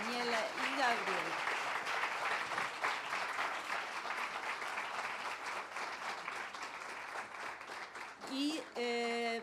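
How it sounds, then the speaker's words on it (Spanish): An audience applauds Daniela and Gabriela at a literary talk in Valparaíso, steady dense clapping filling the room throughout, with a voice speaking briefly near the end. "Les quiero pedir un aplauso, un fuerte aplauso para Daniela y Gabriel"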